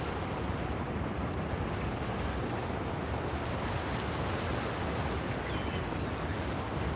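Strong wind gusting over raging floodwater flowing under a railway line, a dense, loud, unbroken roar of buffeting wind and rushing water with no gaps.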